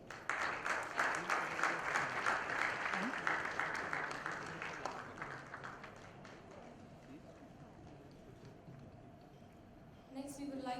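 Audience applause at an Indian press conference on colorectal cancer, dense clapping in the first half that thins and fades toward the end, with voices murmuring underneath.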